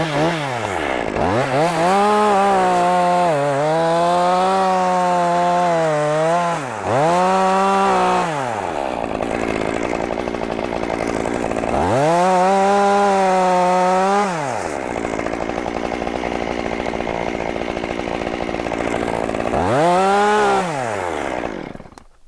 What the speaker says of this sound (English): I got a chainsaw in my hand. I'm going to cut a hole through there.